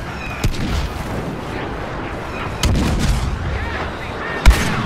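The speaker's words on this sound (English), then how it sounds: "What is that turret?" Turret fire in the Star Wars Battlefront beta: several heavy booming blasts at irregular intervals, loud over continuous battle noise, with no talking.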